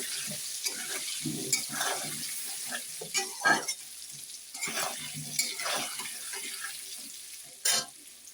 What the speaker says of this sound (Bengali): এখন আলুটা ভালো করে একটু ভেজে নেব।